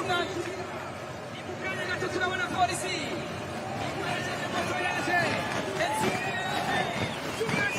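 A massive roadside crowd lines the run-in to a cycling race finish, a dense hubbub of cheering and chatter with scattered whistles, steady and loud throughout.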